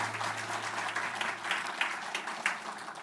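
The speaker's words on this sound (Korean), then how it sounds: "우리 수고한 아이들에게도 우리 박수 한번 더 할까요?" A church congregation applauds in a steady, moderately distant patter of many hands clapping, with a low hum underneath and no talk.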